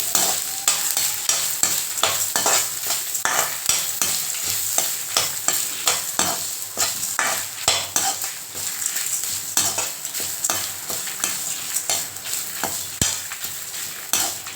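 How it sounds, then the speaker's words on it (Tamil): Grated coconut and dal roast in a pan with a soft dry sizzle, while a spatula scrapes and stirs in repeated strokes, close up and with no voices. "இப்போ அதையும் இதில் போட்டுக்கலாம் போட்டு அதையும் சேர்த்து நல்லா வறுத்துக்கலாம்"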